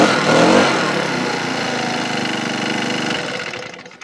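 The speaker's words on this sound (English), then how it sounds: "Not bad, but a little blower really." A Honda HHB25 handheld leaf blower runs close by with a loud, steady two-stroke whine and roar. The sound surges briefly at the start, holds for several seconds, then starts to wind down at the end, with no talking.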